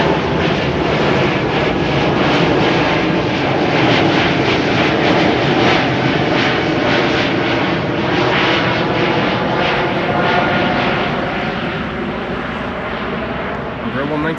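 A KLM Embraer 195 airliner at Amsterdam Schiphol, its loud engine roar rising with pulsing, throbbing texture and fading slightly toward the end, with a voice talking over it.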